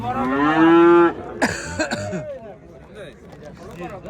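A dairy cow at a livestock market lets out one loud, close, drawn-out moo, then several shorter grunting calls, while crowd chatter and other animal noises mingle behind it.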